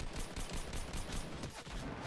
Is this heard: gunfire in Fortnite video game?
yes